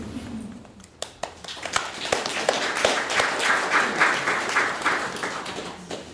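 A crowd applauding after a talk on urban agriculture planning, starting with a few scattered claps that quickly swell into dense, continuous clapping at moderate distance.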